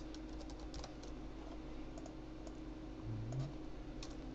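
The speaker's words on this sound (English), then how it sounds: "which I'm going to type it in now" Typing on a computer keyboard, a quick irregular run of soft clicks at close range over a low steady hum, with no talking.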